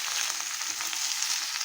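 Potato and eggplant pieces frying together in hot oil with cumin, a steady dense sizzle, close and even throughout with no voices.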